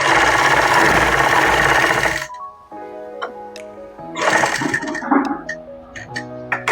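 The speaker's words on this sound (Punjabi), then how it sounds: "ਤਾਂ ਸਿੱਧੀ ਸਲਾਈ ਇੱਥੇ ਆਪਾਂ ਲਾਵਾਂਗੇ" A sewing machine runs steadily at close range, stitching the neckline onto a ladies' kameez, then stops; afterward come scattered ticks and handling clicks with faint tonal sounds.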